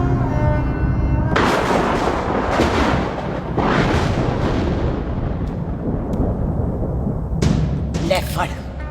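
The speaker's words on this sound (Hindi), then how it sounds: "मार दी सारी गोलियां उसकी छाती में" Bursts of heavy gunfire and booming blasts from a Hindi action film soundtrack, loud and rumbling, with a voice speaking between shots.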